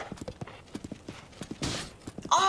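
Horse hooves clip-clopping in The Legend of Zelda: Tears of the Kingdom, a quick rhythmic run of clear hoof beats that ends in a brighter rush of game sound.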